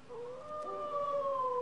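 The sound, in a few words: howling dog sound effect from Haunted Mansion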